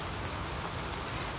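Steady rain falls throughout while a couple walks outdoors, a dense, even hiss of drops on surfaces with no voices heard.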